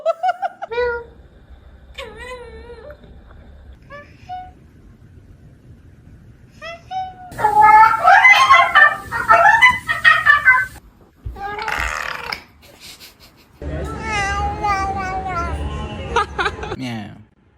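Cats giving strange, drawn-out meows and warbling vocalizations in bursts separated by pauses, loud and close, with some sounds resembling talking.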